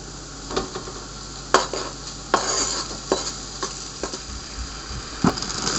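Bacon added to softened onions in a pan for pea and ham soup sizzles softly, broken by sharp clinks and scrapes of stirring against the pan.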